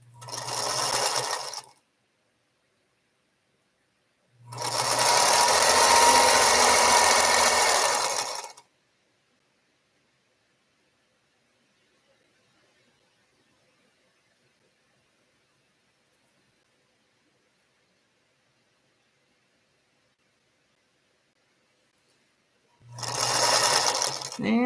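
Sewing machine stitching quilt pieces in three separate runs of rapid, steady stitching, close and fairly loud, separated by long silent pauses with no talk.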